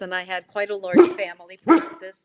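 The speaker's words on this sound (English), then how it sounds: "Sorry, that's my dog." A dog barks twice, in loud, sharp bursts cutting across a man's ongoing speech in an indoor room.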